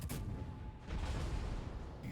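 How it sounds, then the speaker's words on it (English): Warship rear guns firing in World of Warships, a heavy booming salvo with a low rumbling tail, followed by a second blast near the end. "I need to get my rear guns firing as well."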